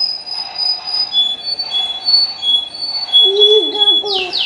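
A train rolls past with a sustained metallic rumble, high steady wheel squeal and rising screech toward the end, fairly loud and continuous with no talk over it.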